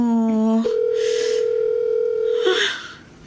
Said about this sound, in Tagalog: Ring lang din ng ring ang cellphone.